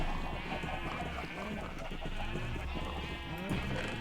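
A sheep bleats in a video game, wavering animal calls heard fairly faintly over steady game background sound.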